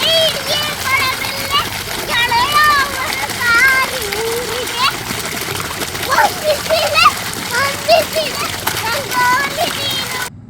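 Children play in water, with repeated splashes under lively, close chatter and excited children's voices throughout.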